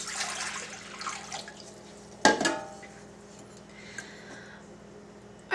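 Water is poured into a bread machine's mixing container, a soft splashing rush followed by a sharp clatter of the container and quieter trickles afterward.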